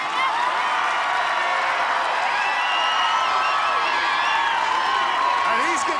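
Crowd cheering and roaring steadily at an American Ninja Warrior course, a loud continuous wall of voices with whoops, under energetic talk from a commentator.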